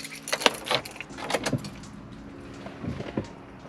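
Subaru car keys jingle and clink close by in a few quick bursts, with faint rattling and handling noise between them inside a quiet car.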